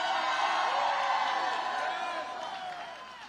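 A large rally crowd roars and cheers in a wide, blended wash of voices that is loud and sustained before easing off slightly toward the end.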